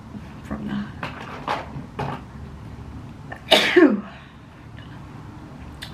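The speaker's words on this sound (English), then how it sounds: "Oh, I'm gonna sneeze from that." A single sharp sneeze bursts out near the microphone while makeup powder is being applied, preceded by quiet rustling and brief sounds of breathing.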